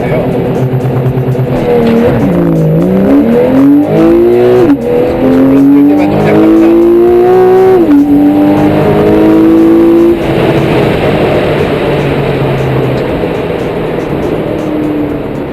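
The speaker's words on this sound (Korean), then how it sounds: "다시 한번 론치 컨트롤을 해보겠습니다" A Porsche 911 Carrera S of the 991 generation makes a loud launch-control start, its engine note climbing hard through several rising gear pulls with a possible brief tire chirp, close and dominant, while a voice speaks faintly beneath.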